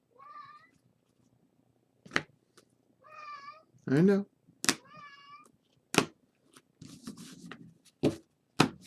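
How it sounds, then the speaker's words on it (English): A house cat meows several times close by, with rising drawn-out cries mixed among sharp clicks and rustling while a person speaks a few words. "Hi, kitty cat."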